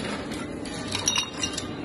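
Ice clinking against a glass while a basil gin cocktail is strained, a few close, bright chinks and rattles, no talk.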